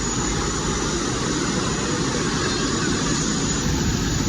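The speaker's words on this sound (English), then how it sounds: "Plane taking off." A loud, continuous engine roar of an airplane taking off at Singapore's Jewel airport complex, broad and unbroken throughout with no voices over it.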